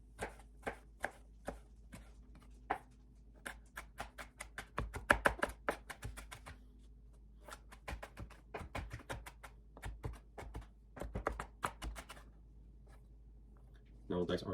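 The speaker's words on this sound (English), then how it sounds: "I'm going to chop the jalapenos right here." Knife chopping jalapenos on a cutting board for an omelette, a run of sharp close taps in quick bursts with short pauses, steady and fairly loud.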